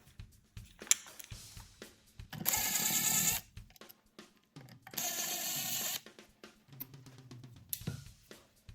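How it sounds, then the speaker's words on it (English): Screws are backed out of a guitar's Bigsby vibrato, heard as two separate short whirring bursts, with small clicks and handling noises between them. "Now let's remove these 2 screws"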